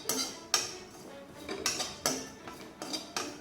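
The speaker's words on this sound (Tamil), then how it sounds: "கைவிடாமல் இதை மாதிரி நல்லா வறுத்துக்கிட்டே இருக்கணும்" Metal spoon scraping and clinking against a pan while roasting, with sharp clinks roughly every half second in an uneven rhythm, close and fairly quiet, no talking.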